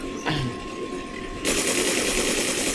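Gunfire in the video game Resident Evil 4, a short burst followed by a sustained loud rattle of rapid shots that runs to the end, with no voices.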